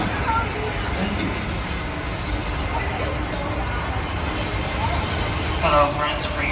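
Disneyland parking tram riding through the Mickey & Friends parking structure at night, a steady loud rumble of rolling wheels and motor with a spoken announcement over the noise.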